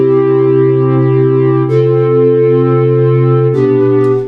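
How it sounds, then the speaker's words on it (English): A Synth1 sub bass sine wave plays sustained chords, a smooth, pure, humming tone that shifts to a new chord twice at even intervals, loud and steady with no talk. "now it's at a sub to the low one. We'll make it a sine wave."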